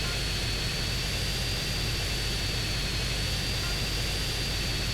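Jet-like aircraft engine drone from a very fast plane during an air race in GTA San Andreas, Las Venturas; a loud, steady roar with a high whine, continuous throughout.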